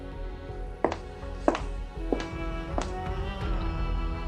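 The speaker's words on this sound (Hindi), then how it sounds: "और दरवाज़ा खटखटाने की आवाज़ आती है।" Four or five sharp wooden knocks on a door, spaced unevenly and fairly close, used as a story sound effect, followed by a low steady background hum.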